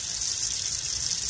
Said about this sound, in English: So now, just a gentle rinse.